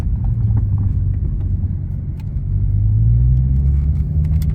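A turbocharged car engine rumbles deeply and echoes off a nearby wall, its low drone swelling slightly as it revs, loud and close with no talking.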